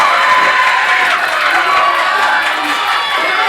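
A wrestling tournament crowd roars and cheers continuously, a loud, dense wall of shouting voices filling the hall at close range.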